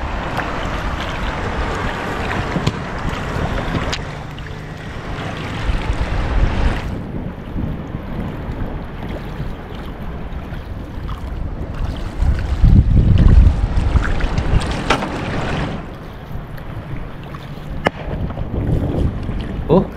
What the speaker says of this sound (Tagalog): Yang alon. Malaki yan. Malalaki yan.